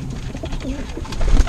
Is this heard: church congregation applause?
no